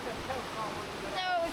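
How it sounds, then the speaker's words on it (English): A small waterfall on the Kanarra Falls hike rushes in a steady, moderate wash of flowing water, close by, with faint squeaky sounds near the end. "It's a baby waterfall."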